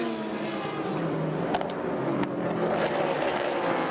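Several race cars in a close three-car train roar past on the Sebring circuit in 2014 endurance racing, a loud, continuous engine drone with shifting pitch, no talk over it.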